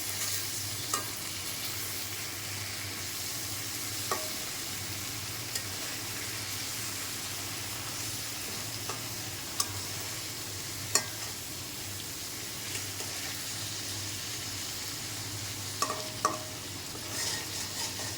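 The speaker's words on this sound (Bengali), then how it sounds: "ইলিশ মাছ মেখে তেলে দিয়ে দিয়েছি, এখন ফিরিয়ে দেবো।" Hilsa fish coated in spices fries in oil in a pan, a continuous soft sizzling crackle with occasional faint pops and light clicks, no voices over it.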